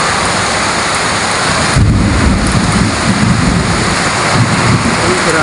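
A heavy afternoon downpour with thunder roars loud and steady as rain pounds surfaces, a deep rumbling surge swelling midway and continuing to the end, with no talk.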